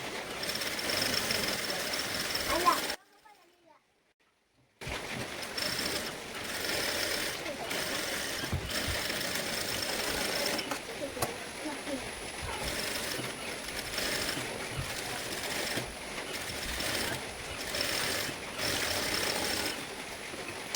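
Sewing machine stitching cotton lining onto a Madras check kids top, a steady mechanical whir running nearly throughout with a brief stop near the start, close and moderately loud.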